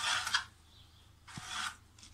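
Pencil or marker scratching over soft wood while tracing an owl cutout, two short rasping strokes close by separated by a quiet gap.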